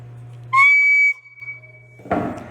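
A metal whistle made in a school machining class gives one sharp, bright, steady blast lasting about half a second, close and loud, followed by faint background sounds and a brief clatter.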